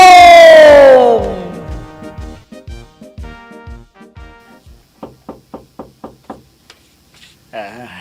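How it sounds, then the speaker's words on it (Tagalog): Six or seven sharp, evenly spaced knocks land on a wooden door, close and distinct, after a falling siren-like whoosh and a run of softer thuds. "May kumakatok."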